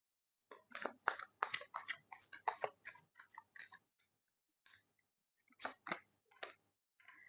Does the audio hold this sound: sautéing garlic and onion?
no